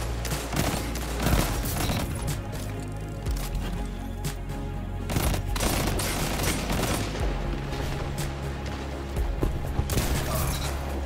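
A pulse rifle in Destiny 2 fires repeated bursts, sharp cracks arriving in quick groups over a booming game soundscape with low rumbles and mechanical clatter.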